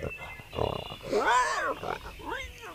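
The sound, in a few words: pigs grunting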